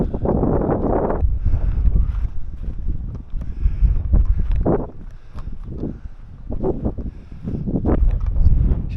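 Strong gusting wind buffets the microphone outdoors during a UMX Conscendo RC glider flight, roaring in loud uneven bursts that rise and fall throughout.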